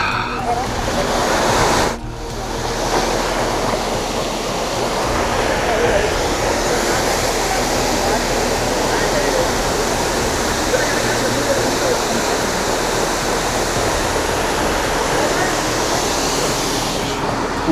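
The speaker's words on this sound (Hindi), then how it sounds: "अब ये नीचे गिर रहा पानी।" A waterfall on the Kedarnath trek pours down in a loud, steady roar of rushing water, close by and continuous, with a brief dip near the start.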